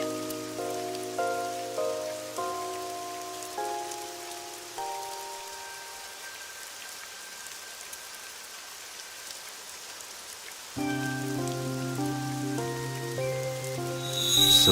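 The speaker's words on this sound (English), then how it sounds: "It's raining." Steady soft rain hiss in the video game AI: The Somnium Files, running faintly beneath a gentle melodic music score whose notes stop midway and then return louder.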